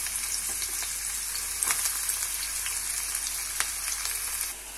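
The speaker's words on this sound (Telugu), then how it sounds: "ఉల్లిపాయ బాగా వేగిందండి." Chopped onions fry in a pan with cloves and cinnamon pieces, giving a steady, close hiss with a few faint stirring clicks.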